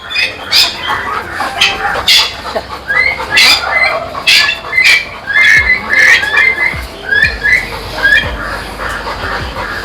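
Several birds squawk and call in quick, chirpy bursts, fairly close and loud, over a steady background hum.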